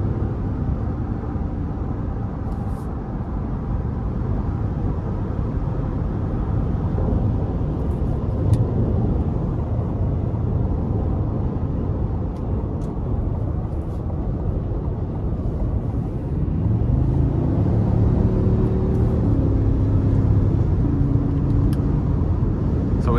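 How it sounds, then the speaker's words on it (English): Low, steady engine rumble from the V8 of a 2023 Cadillac Escalade Premium Luxury with a 10-speed automatic, heard from inside while driving, swelling slightly louder toward the end as throttle is applied, with no talk. "It's nice having that beefy V8 with this seamless 10-speed automatic."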